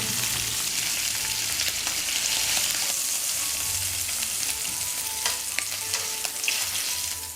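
Slices of smoked duck sizzle steadily in a hot pan, a dense continuous frying hiss with occasional sharper crackles and pops, close and alone without talk.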